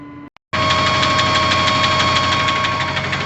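A tractor engine drives a 12 metre Jarmet sprayer through the PTO at about 1200 revs. After a brief quieter moment it settles into a loud, steady, close drone with a rough knocking texture.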